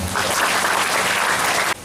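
Audience of parents applauding at a parenting seminar in an Islamic boarding school hall, a dense, steady wash of clapping that holds loud for almost two seconds and then cuts off abruptly.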